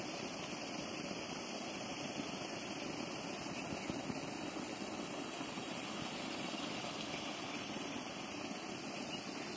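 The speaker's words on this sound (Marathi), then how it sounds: "5 HP सोलर पंप आहे हा." A 5 HP solar water pump runs at a well, giving a steady, continuous hum with a broad wash of noise throughout, faint and unchanging.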